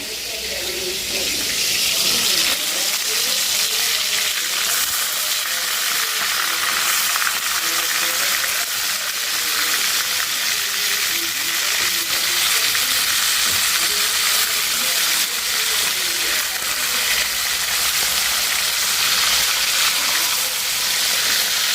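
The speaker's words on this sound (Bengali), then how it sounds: "যেখানে মাছ ভাজা হচ্ছে" Fish frying in oil in a pan gives a steady, loud, close sizzle with a dense crackling hiss that continues without a break for over twenty seconds.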